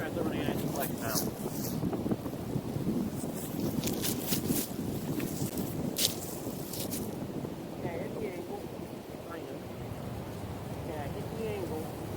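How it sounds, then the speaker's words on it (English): Steady outdoor wind on a disc golf course rushes and buffets the microphone throughout, with a broad low roar and a few brief higher bursts, loud and continuous. "Like the wind just blew."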